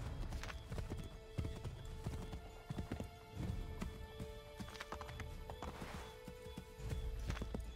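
In the video game Assassin's Creed 3, horse hooves clip-clop in a steady rhythm as the horse is ridden. A brief whinny is heard, and there is low game ambience underneath.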